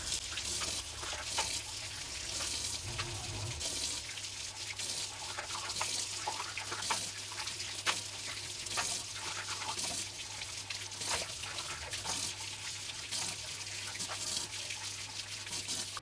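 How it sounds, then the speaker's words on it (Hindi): Running tap water streams steadily while baby bottle parts are washed under it, a continuous close splashing and trickling with a low hum beneath and no voices. "अब हम बाकी के जो पार्ट्स हैं उनको भी अच्छे से वॉश कर लेते हैं।"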